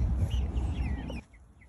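Chickens cluck briefly in a backyard coop, a short close burst of low clucks and soft chirps that stops abruptly.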